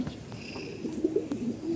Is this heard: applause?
no